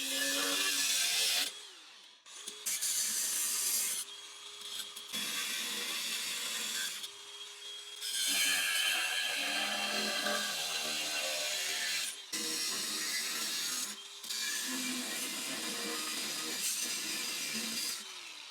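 An angle grinder cuts metal brackets off an EZGO Workhorse golf cart in several loud, sustained bursts separated by brief pauses, with a harsh rasping whine close by.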